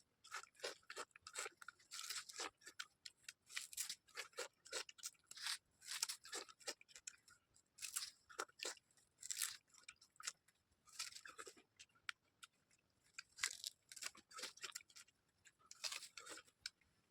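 Raw sugarcane being bitten and chewed up close, with repeated crisp, fibrous crunches and snaps arriving in irregular bursts, fairly loud and alone, without talk.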